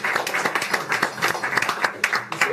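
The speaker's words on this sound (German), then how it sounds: "Also das ist, glaube ich, ein Applaus." A small group at a newspaper pub-table gathering in Balzers claps, the individual hand claps distinct and fairly close in a quick, uneven rhythm.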